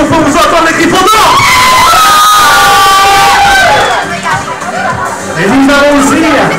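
A loud crowd of students cheering and shouting for Gryffindor, voices whooping and sustained cries layered together close by and continuous throughout.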